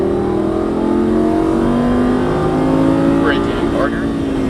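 A Lamborghini Gallardo Superleggera LP570-4 engine drones loud and steady on a race track, its rising harmonic tones showing acceleration under throttle, while an instructor's voice talks over it throughout.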